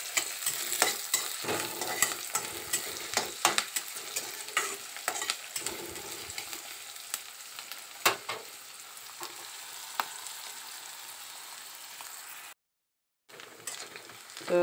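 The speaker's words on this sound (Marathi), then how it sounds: "तर इकडे आपलं तेल जे आहे ते गरम झालेलं आहे. आता मी याच्यामध्ये टाकणार आहे कांदा." Chopped onion fries in hot oil in a home kitchen pan, a continuous crackling sizzle broken by sharp stirring scrapes, close and fairly quiet, with a brief dropout near the end.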